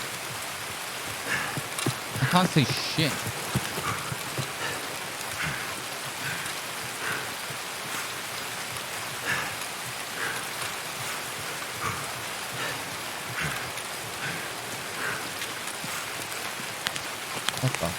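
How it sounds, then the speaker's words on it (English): Steady rain falls in a nighttime shooter game set in a customs area, a continuous hiss throughout, with someone talking over it at moments. "And it's been raining for most of it."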